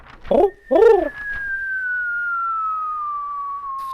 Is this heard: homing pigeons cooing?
yes